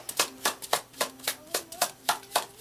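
Tarot cards being shuffled up close, a quiet run of about a dozen regular riffling bursts in a steady rhythm with no voice.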